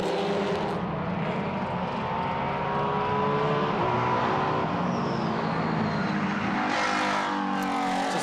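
Race cars, including a Ford Mustang GT4, roar loudly and steadily as they accelerate on the green-flag restart down the front straight at Canadian Tire Motorsport Park, a dense continuous engine drone with a rising whine near the end.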